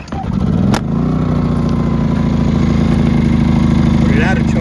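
Small RV generator engine running steadily after a cold choke start, a loud, continuous mid-pitched idle drone that settles in after a sharp start-up transient, with no talk.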